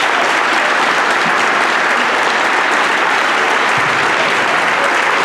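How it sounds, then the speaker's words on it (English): A student body gives a standing ovation at a school award presentation, with loud, sustained crowd applause filling the space steadily throughout, no pauses or voices standing out. "I want to give our student body a huge standing ovation and round of applause."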